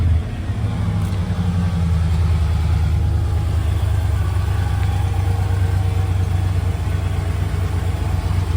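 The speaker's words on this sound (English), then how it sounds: "You hear that miss, and then it just goes in and idles rough. It has a complete change of tone." A Ford OBS truck engine idling rough with a misfire, giving a steady, close, low rumble with no talk over it.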